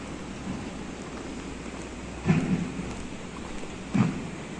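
Heavy monsoon rain falls near the Furus bridge in the Dapoli–Khed area, a dense continuous hiss with two brief louder rumbling bursts, no voices.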